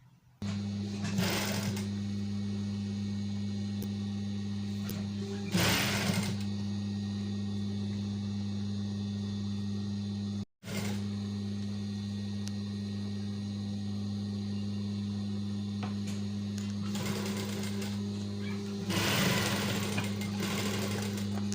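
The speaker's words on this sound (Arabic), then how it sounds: "وهسه راح اخيطه قدامكم تشوفونه" A sewing machine stitches the seam of a dress, a steady loud motor whir running almost the whole time, with short bursts of louder fabric and needle rattle and one brief stop midway.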